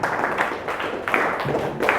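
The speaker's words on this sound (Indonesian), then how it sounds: "boleh tepuk tangan untuk Mardika" Students in a classroom clap for a classmate after a lesson, a short burst of scattered hand claps from a small group, fairly close, with faint voices mixed in.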